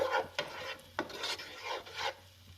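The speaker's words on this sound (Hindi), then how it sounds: "ये देखें होना भी सिजलिंग भी स्टार्ट हो चुकी हुई है हल्की हल्की" Cabbage sizzles softly in a kadai while being cooked for chicken buns, a faint crackling hiss with occasional scraping stirs, heard alone without talk.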